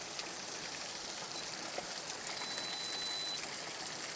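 A waterfall flows in a steady, broadband rush of falling water, even and continuous at a moderate distance, with no voices.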